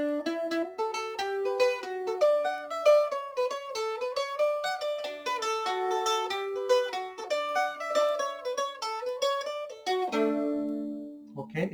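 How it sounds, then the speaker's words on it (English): A mandolin is picked around the sound hole in a lively run of ringing notes. The melody flows close and clear for several seconds, then ends on a sustained chord. "so play around the sound hole or between the bridge and the end of the neck"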